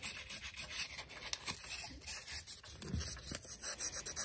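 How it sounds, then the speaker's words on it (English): 800-grit wet-dry sandpaper rubbed by hand over a heavily corroded brass ship's strike case, making quiet, close, rhythmic back-and-forth scratchy strokes with no talking. "I'm gonna try a little bit of 800 grit wet dry sandpaper on this"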